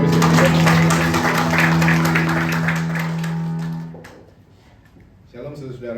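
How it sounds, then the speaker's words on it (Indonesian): Church congregation applause, a full, loud wash of clapping over a sustained keyboard tone, cutting off abruptly after about four seconds before a voice begins speaking. "Boleh tepuk tangan buat Kristus."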